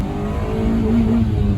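A Honda car engine drones and revs steadily at close range, a continuous loud mid-pitched roar with a slight rise in pitch, heard alone without talk.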